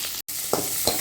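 Crushed garlic and chopped onion sizzling in hot oil, a loud continuous hiss with a couple of brief stirring scrapes, close and without speech.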